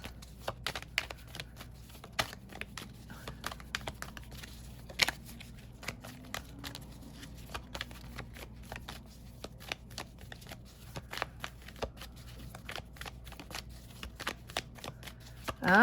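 Tarot cards being shuffled by hand, a steady run of crisp riffling snaps and soft slides close by, with faint talk now and then.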